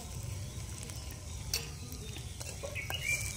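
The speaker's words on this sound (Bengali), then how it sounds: "মশলাটা নেড়ে নেব।" Spices such as chilli powder, black pepper and garam masala are stirred in a hot pan, giving a soft, close sizzle with scraping stir strokes and a couple of brief clinks.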